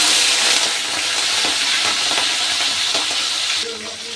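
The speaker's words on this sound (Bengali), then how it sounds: "তেলে দিয়ে দিচ্ছি গোটা জিরে, তেজপাতা আর শুকনো লঙ্কা। আর দিয়ে দিচ্ছি আমি চিংড়ি মাছ।" Shrimp fry in hot oil with whole cumin, bay leaf and dried chili, giving a steady loud sizzle with light stirring scrapes close by and a slight drop in intensity near the end.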